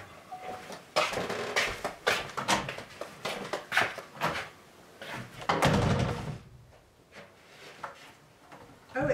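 The feature door and the Dutch door of a skoolie bus are opened, producing a series of close wooden thuds, knocks and rattling clunks, one heavier bang near the middle, then quiet.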